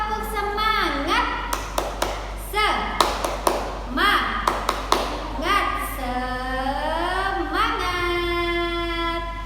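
A classroom clapping chant for an Indonesian-language lesson, with rhythmic bursts of hand claps alternating with sung or chanted voices, fairly close and lively, the claps sharp and evenly spaced under the chanting.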